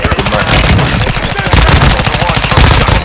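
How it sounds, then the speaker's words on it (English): Rapid automatic gunfire in a video game rooftop firefight, sustained loud bursts and rattling shots filling the whole moment without pause, a faint voice barely under the racket. "you are taking effective fire"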